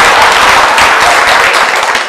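Wedding guests at a speech breaking into applause, a loud, close burst of many hands clapping in a dense, even patter with no voices over it.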